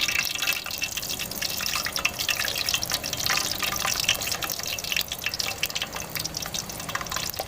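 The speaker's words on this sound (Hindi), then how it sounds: "अब हम इसके अंदर एक एक बिस्किट अपना फ्राई करते हैं, डाल देते हैं।" Wheat and semolina biscuits are dropped into hot oil in a wok, giving a steady dense sizzle and crackle, close and fairly loud throughout, without speech.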